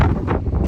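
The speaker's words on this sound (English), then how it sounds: "You can probably hear that. It really is windy." Loud, blustery wind roars against the microphone in continuous gusts, with no talking.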